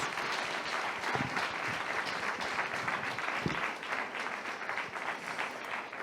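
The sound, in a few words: audience applause for a speaker at a congress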